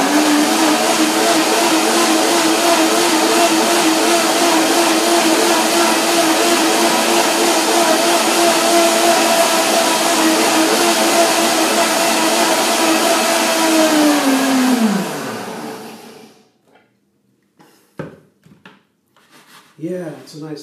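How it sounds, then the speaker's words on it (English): A blender runs loudly and steadily while blending a runny green dressing, a dense whirring roar that winds down around fifteen seconds, followed by a few light knocks and rattles. "You will see the blender dance"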